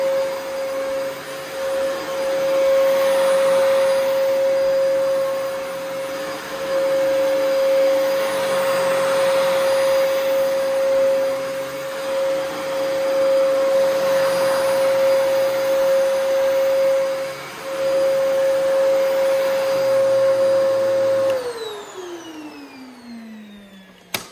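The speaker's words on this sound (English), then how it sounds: "that is that Phantom Cyclone XT" Phantom Cyclone XT vacuum cleaner running close and loud, a steady whooshing airflow roar with a sustained motor whine that pulses slightly, then winds down with a falling pitch as it switches off at the end.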